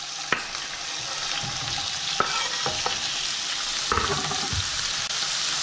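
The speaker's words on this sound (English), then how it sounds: "As long as it gives a sizzle." Oil sizzles steadily in a pan as food fries for a bagel breakfast, a continuous close hiss broken by a few sharp clicks and scrapes of stirring or turning pieces; no talk.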